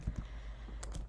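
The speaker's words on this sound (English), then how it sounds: "We're gonna start typing" Keys tap on a computer keyboard while an address is entered into property-analysis software, a few soft close clicks spaced irregularly over a quiet hum.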